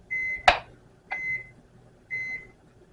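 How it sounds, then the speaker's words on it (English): Three short electronic beeps from a kitchen microwave oven, evenly spaced about a second apart, near and clear with a brief knock on the first beep. "Apologies, that was my microwave."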